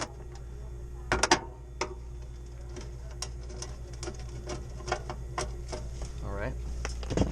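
Tightening a locking nut on a walk-in freezer evaporator fan motor during repair, a few sharp metallic clicks and ticks scattered over a faint steady hum, with a brief voice in the background.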